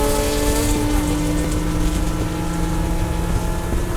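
A race car engine idles slowly at Road Atlanta during a WRL endurance race, a loud, steady low drone with harmonic hum running through the whole stretch and no talk.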